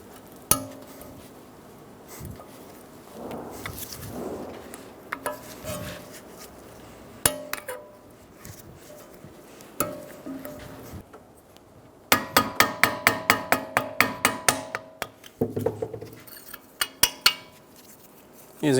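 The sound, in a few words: small hammer tapping steel brake hub collar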